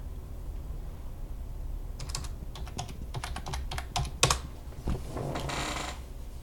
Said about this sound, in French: On doit entrer notre mot de passe.